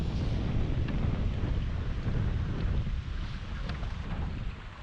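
Strong wind blows steadily over Lake Lanier in a November cold front, a dense broadband rumble buffeting the microphone continuously, with no voices.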